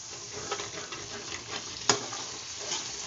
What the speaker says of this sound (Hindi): मसाले को हमें अच्छे से फ्राई करना है